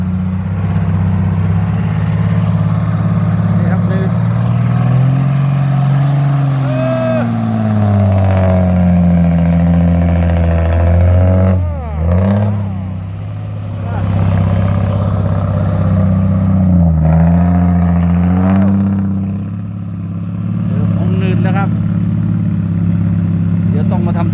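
Fuso dump truck on a sticky, muddy reservoir dredging site, engine droning loudly and revving up and down as gears are tested and the truck strains, close, with a voice speaking over it at times.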